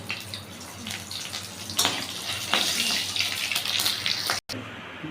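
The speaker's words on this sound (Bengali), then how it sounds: "দেখুন এবার আমি এখানে ফোড়নে ব্যবহার করলাম সরষে," Mustard seeds, nigella and green chili hit hot mustard oil in a pan, giving a continuous close hissing sizzle with some crackling bursts throughout.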